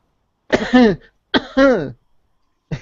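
Two close, throaty coughs, each a harsh two-part hack separated by a short pause, with the start of a third at the very end.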